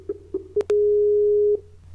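Telephone line tone while calling a company: a few short beeps, then one long steady tone lasting close to a second, clear and alone.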